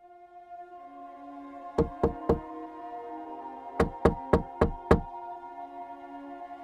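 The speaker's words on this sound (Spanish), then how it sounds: "La puerta de su apartamento fue tocada con fuerza." Loud knocking on an apartment door comes in two bursts, three sharp raps followed by a pause and then five more, close and forceful over a quiet background.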